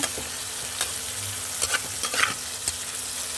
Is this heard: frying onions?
yes